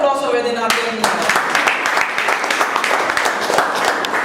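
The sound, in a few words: audience applause at a debate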